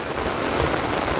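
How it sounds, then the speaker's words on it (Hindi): Heavy rain pours steadily in a dense, even roar of drops hitting surfaces, loud and continuous with no voices. "अभी हो रही है बहुत तेज बारिश"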